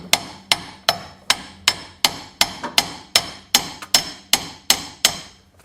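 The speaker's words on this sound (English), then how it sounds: "watch we keep hitting the metal and it gets stuck like that" Sharp metallic hammer blows strike the driveshaft of a Dodge Charger, about a dozen evenly spaced loud whacks, each ringing briefly before the next.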